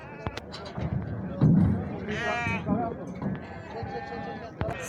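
Goats bleat at a livestock market in Torbalı, İzmir, several short wavering calls rising over crowd chatter and nearby talking, with occasional knocks and thumps.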